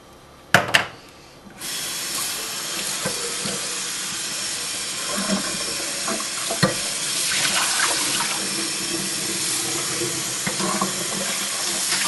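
A blender is rinsed under a running kitchen tap, with a couple of sharp knocks at first, then a steady hiss of flowing water and splashing that shifts as the jug is moved under the stream.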